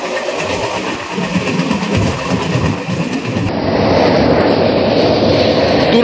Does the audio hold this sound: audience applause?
no